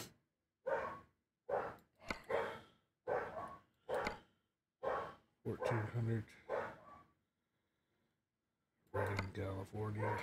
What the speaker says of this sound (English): Sorry about the dogs. They're excited.